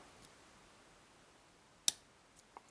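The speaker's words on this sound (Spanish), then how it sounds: "primero inferior, un clic y un avance" Single crisp, close metallic click as a pin sets while a TESA T10 dimple lock is picked, followed by two fainter ticks over near silence.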